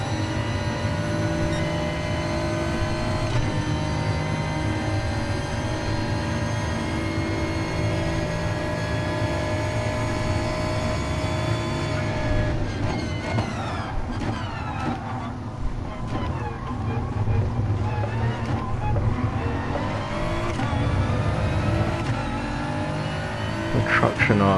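Gr.4 race car engines at Monza in the GT Sport video game, loud steady engine drone with shifting tones as cars rev and change gear, continuous throughout, with no talk.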